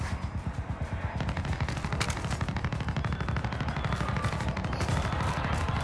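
Heavy gunfire in a Warzone or Fortnite video game, with dense overlapping automatic bursts and rapid shots running loud and continuous throughout, no talk over it.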